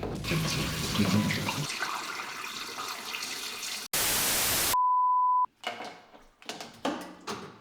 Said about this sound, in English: We take a jerry can and drain it.